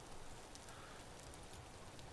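Rain falls in the video game Vintage Story around a house, a steady, dense hiss of drops pattering on surfaces with no talk over it.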